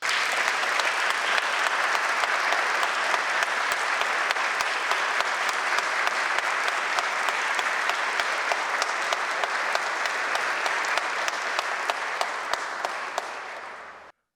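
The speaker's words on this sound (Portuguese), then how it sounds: "para quem eu peço uma salva de palmas." Steady applause from a ceremony audience honoring appellate judges at a court portrait-unveiling event, a dense, even patter of many hands lasting about fourteen seconds before tapering off at the end.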